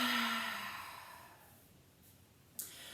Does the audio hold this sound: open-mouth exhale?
yes